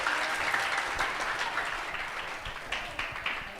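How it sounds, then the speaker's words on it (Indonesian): Audience applause at a pesantren event in Makassar, a steady wash of clapping from many hands lasting a few seconds, fairly close and even, with a few louder bursts near the end. "Tepuk tangan dulu dong untuk Pak Ustadz ya."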